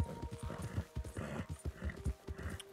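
Horse hooves clip-clopping in Red Dead Redemption 2, a rhythmic run of close, distinct thuds at a brisk walking pace with faint background ambience.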